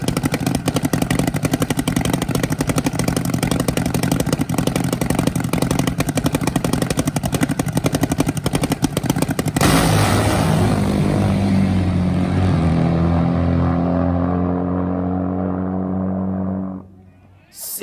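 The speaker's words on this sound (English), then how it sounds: "This is a parallel twin, supercharged. It is mean." A supercharged parallel-twin drag racing motorcycle roars at full throttle with a loud, harsh buzzing engine note, then the pitch drops sharply and the sound fades away as the bike finishes its run.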